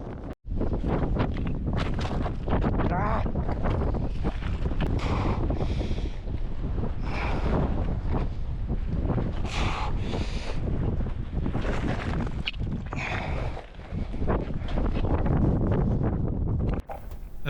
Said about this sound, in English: I don't want to hurt your sound system or your ears with the wind noise